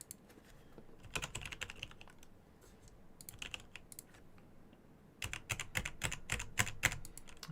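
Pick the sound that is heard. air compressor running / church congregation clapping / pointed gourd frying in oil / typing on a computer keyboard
typing on a computer keyboard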